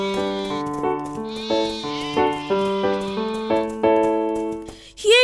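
Sheep bleat repeatedly in a bright, wavering series of calls, several overlapping in quick succession, close and clear with no talking, in a children's counting setting.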